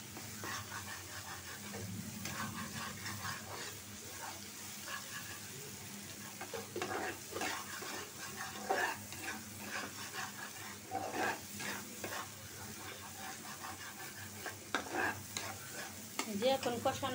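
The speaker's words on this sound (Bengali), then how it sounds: "মশলাটা ভালো করে কষায় দিতে হবে, কারণ যাতে আদা রসুনের গন্ধটা না থাকে" Ginger-garlic spice paste sizzles steadily in a frying pan, with repeated scraping and stirring strokes throughout; no one speaks.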